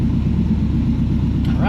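Steady low engine idle rumble from an old vehicle being revived, continuous and fairly loud up close, with the idle settling slightly lower.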